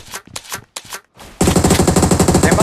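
Rapid automatic gunfire in a mobile shooter game, a few separate shots followed by a loud, sustained burst of evenly spaced rounds.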